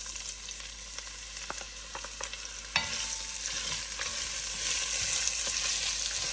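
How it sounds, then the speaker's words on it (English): Onions and curry leaves crackle and sizzle in hot oil for a lamb curry. The frying grows louder and denser partway through, with scraping stirs and light clinks against the pan, close up and with no voices. "And the curry leaves. Then we're going to add the onions."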